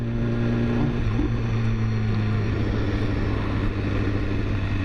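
A 2015 BMW S1000RR sport bike engine while riding, a steady droning hum with a low harmonic growl and constant wind rush, moderately loud, with no talking.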